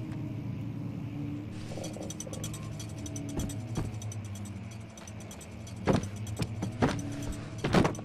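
Gear mechanism grinding in Amnesia: The Dark Descent as a book on a shelf is pulled, a steady mechanical whir and rumble with ratcheting clicks and a few sharper knocks toward the end, no talking.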